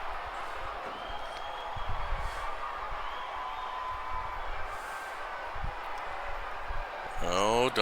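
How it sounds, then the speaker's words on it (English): A wrestling crowd at a Midnight Express versus Fantastics match makes a steady, loud roar of cheering that carries under continuous talk and swells near the end. "Listen to that crowd,"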